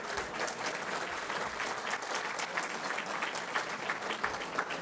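Steady applause from a dinner crowd at a Lincoln Day political dinner, dense clapping sustained at even loudness for the full stretch, with no voices rising above it.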